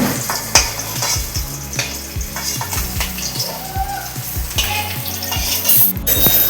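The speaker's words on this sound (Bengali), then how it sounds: "সব মাছ একে একে ভাজা হয়ে গেছে এবার আমি সব তুলে নিই" Silver carp pieces fry in hot oil in a pan, a loud continuous sizzle with repeated metallic clinks and scrapes of a utensil against the pan throughout.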